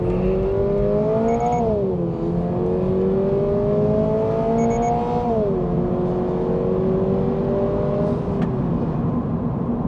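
A 2022 Toyota GR86 with an automatic gearbox in track mode revs up against the brake and then accelerates, its engine note rising and falling in smooth sweeps, loud and close.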